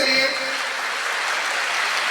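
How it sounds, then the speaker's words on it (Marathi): Continuous clapping from a crowd of students at a school function, a brief voice at the very start before the applause settles into an even, unbroken roar. "टाळ्या होत्या एकदा अविनाश भैया भारतीसाठी."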